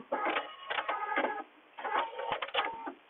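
Sewing machine stitching in two bursts while sewing an Olson-style fabric face mask, rapid mechanical needle chatter running, briefly pausing for a back stitch, then resuming; close and fairly loud with no talk.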